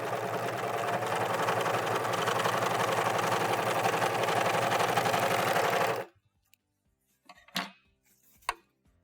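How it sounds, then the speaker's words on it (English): An American Home serger runs a steady, dense mechanical whir for about six seconds while sewing an overlock stitch on fabric, then stops abruptly, leaving a few faint clicks and handling sounds. "let's run another piece of fabric through."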